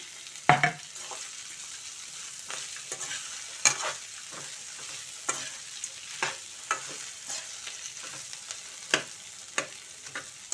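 Okra, thinly sliced onion and green chillies fry on a high flame, a faint steady sizzle punctuated by regular sharp scrapes and taps of a spatula against the pan.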